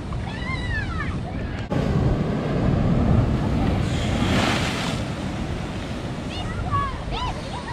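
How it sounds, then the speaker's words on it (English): Ocean waves at Spoon Bay splashing against a boat, a sudden loud surge of water and spray over steady wind noise, with voices and someone talking in the background. "That was a big splash, wasn't it? Yeah, big water."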